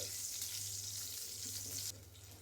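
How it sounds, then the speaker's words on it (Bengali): Nigella seeds and four slit green chillies frying in leftover oil for a mustard hilsa curry, a steady close sizzle with a low hum beneath that drops off sharply near the end. "বাকি যে তেলটা আছে তার মধ্যে ফোড়নে দিচ্ছি কালো জিরে আর দিচ্ছি চেরা চারটে কাঁচা লঙ্কা"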